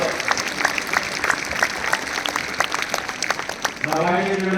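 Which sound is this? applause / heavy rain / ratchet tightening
applause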